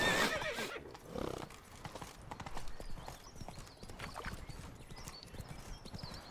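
A horse gallops in the video game The Witcher 3, its hooves clip-clopping in a quick run with a whinny at the start, fairly faint and alone, with no talk.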